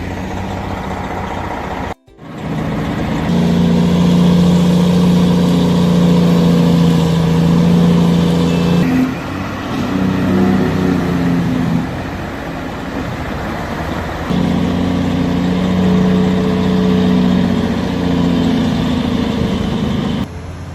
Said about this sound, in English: the truck struggles to navigate through narrow, crowded streets